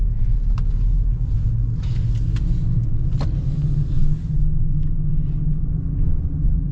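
A 2025 Ford Bronco Sport Badlands Sasquatch driving, heard from inside the cabin as a loud, steady low road-and-engine rumble with a few brief clicks and rattles over the drone, no voices.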